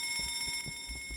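In the horror game Escape the Backrooms, an alarm rings continuously with a steady, pulsing electronic tone like an alarm clock, filling the whole moment at moderate loudness with low game rumble beneath.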